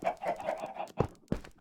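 Chickens clucking in a video game farm built for laying eggs, a quick run of several soft clucks followed by two sharper separate clucks, close and fairly quiet with no talk.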